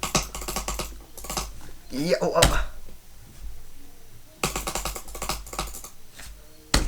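Rapid bursts of clicking on a Model O Wireless mouse come in dense clusters separated by short pauses, close and crisp, with a brief spoken word and a thump in the middle.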